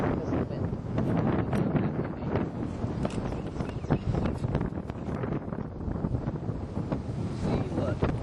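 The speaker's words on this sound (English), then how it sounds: "probably can't even hear you in the camera because of the wind" Strong gusty wind buffets an outdoor camera microphone, a loud continuous low rumble with irregular bursts and pops throughout, covering everything else.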